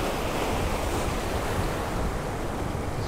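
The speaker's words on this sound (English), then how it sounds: "These waves are getting up really high now." Ocean waves break against a jetty in a steady, loud wash of surf mixed with wind rumbling on the microphone, with no speech.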